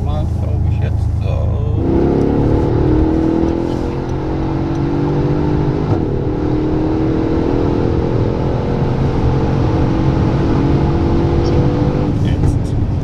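A Mercedes-Benz S63 AMG accelerates hard from 100 to 200 km/h with automatic shifting, a loud in-cabin engine roar rising in pitch through a gearshift around two seconds in, then climbing steadily, with a voice speaking over it.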